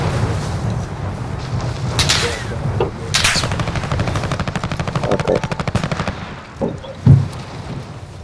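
Rapid automatic gunfire from the video game Warzone, with dense bursts and sharp shots stacking loudly over eight seconds and a heavy thump near the end.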